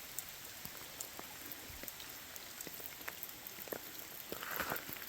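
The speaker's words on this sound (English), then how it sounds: "Been raining pretty good today." Rain falling steadily around a clear mountain pond on a hiking trail, a soft continuous patter with scattered distinct drops landing nearby, fairly quiet and heard alone without voices.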